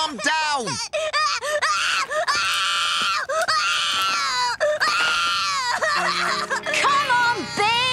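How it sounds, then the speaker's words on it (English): A cartoon baby wails loudly and continuously in long rising and falling cries with brief catches of breath, close up and filling the scene, in a Dennis and Gnasher episode. "What's all that crying about, then?"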